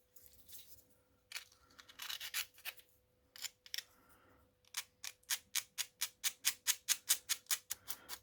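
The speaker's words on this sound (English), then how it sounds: "Just sanding them away until they're flush," Close, scratchy rasping strokes of sandpaper sanding raised rivets flush on a metal cowling air scoop, irregular at first, then settling into a quick, steady back-and-forth rhythm.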